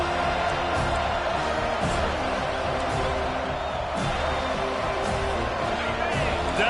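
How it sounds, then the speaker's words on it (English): A packed stadium crowd roars continuously at a Florida State versus NC State college football game as fans cheer on the defense on third down, a dense, loud, unbroken wash of noise. "Decibels rising as the crowd gets behind this defense on 3rd down."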